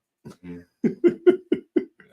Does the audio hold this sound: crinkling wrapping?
no